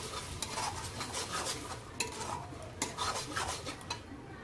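Masala with tomato puree being sautéed in a pan for chicken gravy, heard as a steady low sizzle with repeated scraping and stirring strokes and light metallic clinks of a spoon against the pan, close up with no voices.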